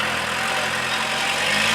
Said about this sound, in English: Tractor chewing it all up, turning it into mulch really